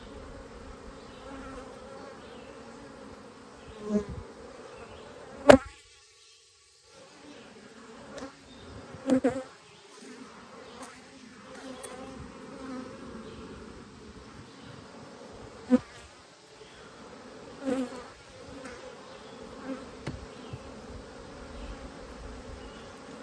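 Honey bees hum around a rescued hive, a sustained buzzing drone broken by several sharp handling knocks and clicks, close to the listener.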